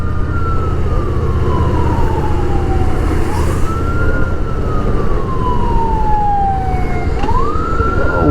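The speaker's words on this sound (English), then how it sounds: "what is that siren for on that motorcycle?" A wailing siren on a motorcycle sweeps slowly up and down twice, loud and steady over heavy engine and road rumble.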